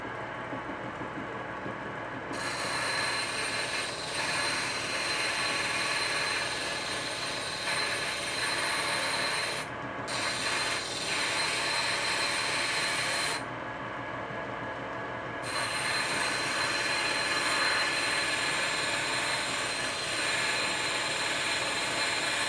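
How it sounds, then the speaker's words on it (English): A grinder shapes a small steel carving knife blade, a loud, continuous rushing whine that runs nearly throughout with a few brief dips as the blade is lifted from the wheel. "Well, next I'm going to start grinding out the shape of my little knife blade here."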